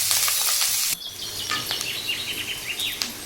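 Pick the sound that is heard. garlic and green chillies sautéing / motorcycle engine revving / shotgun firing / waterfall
garlic and green chillies sautéing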